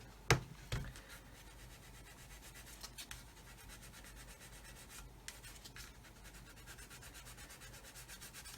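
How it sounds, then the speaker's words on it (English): A sanding stick rubs back and forth over a plastic part of a 1/144 Roden C-141B Starlifter model kit, a soft, faint scratchy hiss with a couple of sharper clicks near the start. "if I go over that with a sanding stick, like this here"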